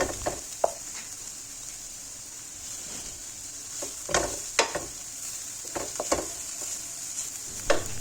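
Grated carrot for payesh, with a little cinnamon, frying in a pan over medium heat. A steady hiss runs throughout, and a spatula scrapes and stirs in several sharp, irregular strokes clustered near the middle and end.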